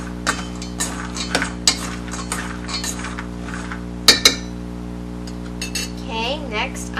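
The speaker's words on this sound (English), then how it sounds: "And I'm going to stir again." A spoon stirs seasoned pecans in a pan, giving sharp scattered clinks and scrapes over a steady hum, with some quiet talk.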